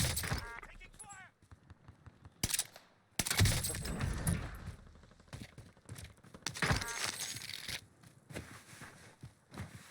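Gunfire in Call of Duty Warzone on the Caldera map cracks in sharp bursts and single shots, mixed with clicks and impacts, while players talk over voice chat.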